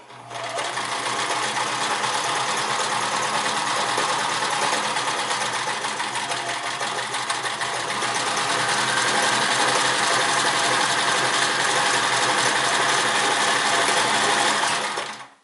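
A Sears Kenmore 158 series sewing machine stitches continuously at a fast, even whir with a rapid mechanical clatter, loud and close for about fourteen seconds before stopping abruptly.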